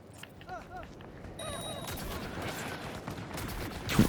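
Enemy gunfire aimed at the player in a video game: bursts of rapid shots and a volley of fire, mixed with game effects and voices, ending in a louder impact.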